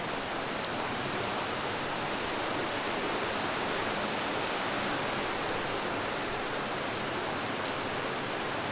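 Waterfall at a site marked by a plaque, a loud, steady broadband roar of falling water that fills the whole clip without pause and with no voices over it.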